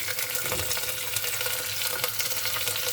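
Soaked green peas go into a hot frying pan for ghee rice, producing a steady, crackling sizzle with small popping bursts that continues evenly and close by, with no voices.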